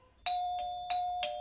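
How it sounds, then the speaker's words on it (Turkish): An electronic doorbell at home rings four times, two-tone chimes in a quick, even sequence, each note ringing clear and sustained, close and fairly loud, with no voices. "kapı mı çalıyor, bana mı öyle geliyor?"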